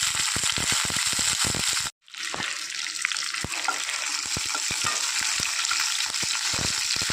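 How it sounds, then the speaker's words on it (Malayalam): Shallots, green chillies and curry leaves fry in a pan for a tapioca (kappa) erisseri, giving a steady, close hiss and sizzle with scattered stirring clicks and a brief silent break early on. "കറിവേപ്പിലയും പച്ചമുളകും ഉള്ളിയൊക്കെ ഒന്ന് മൂത്ത് വരാൻ തുടങ്ങിയിട്ടുണ്ട്"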